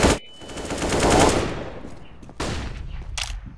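Gunfire in Counter-Strike: Global Offensive, with sharp shots at the start and a second burst of rapid cracks later, separated by quieter game noise and some background sound.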